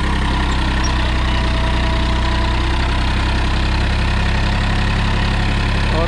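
A 2019 Massey Ferguson 245 Di tractor with a 50 HP diesel engine runs steadily, a loud, continuous low rumble with no breaks, heard on its own.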